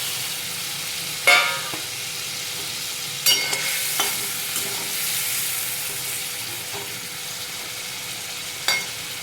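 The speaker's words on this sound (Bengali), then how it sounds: "এর মধ্যে আমি পটলগুলো দিয়ে দিলাম।" Pointed gourd (potol) sizzles in a pan, a soft continuous fry with a few sharp clatters of stirring, and a car horn honks faintly in the background.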